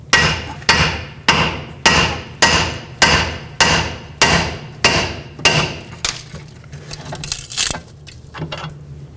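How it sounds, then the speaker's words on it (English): Repeated hammer blows on a steering knuckle to pop a ball joint free from the control arm on a 2012-2017 Toyota Camry, about ten sharp, evenly spaced metallic strikes, loud and close, followed by quieter clanks and shuffling. "let's get a hammer, hold up on the knuckle and down on the control arm"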